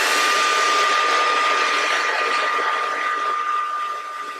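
A hair dryer blows steadily on a blonde 613 lace wig, a loud, close, continuous whoosh with a thin whine running through it that eases slightly toward the end.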